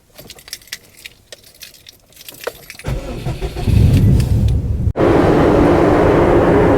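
Keys jangle and click up close before a Subaru Impreza bugeye WRX on a dyno cranks and fires, its engine settling into a loud, rumbling idle, briefly cutting out, then roaring back into a steady run.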